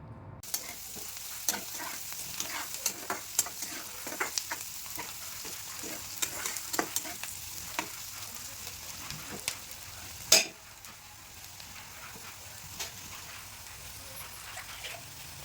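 Onions fry with turmeric and salt in a pan for an egg and garlic dish, giving a steady soft sizzle under repeated scraping clicks of a stirring spoon and one louder clank near the end.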